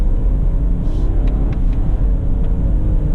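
A Subaru Outback accelerates on a Chicago test drive, its engine a deep, constant rumble with road noise throughout, close inside the cabin.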